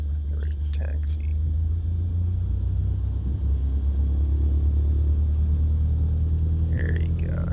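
A simulated light aircraft engine in Microsoft Flight Simulator 2020 throttles up for taxi in Alaska, a steady low rumble that grows slightly stronger, with someone talking over it.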